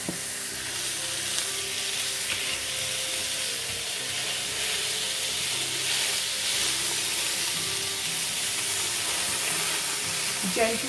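Chicken soya pancake sizzling steadily on a hot tawa, a loud continuous frying hiss with faint scraping and stirring touches throughout, close up and alone without talk.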